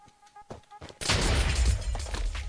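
Automatic gunfire in Minecraft erupts after a brief lead-in of game sounds and short chatter, a sustained burst of rapid loud shots with booming low end that continues to the end.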